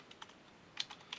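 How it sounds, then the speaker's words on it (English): Typing on a computer keyboard while fixing code bugs, a few light, separate clicking keystrokes, close and faint, with no talk. "Much better typing this time."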